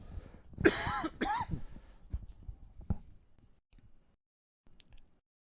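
Two sharp, close coughs in quick succession, followed by a few faint clicks and taps fading into near silence.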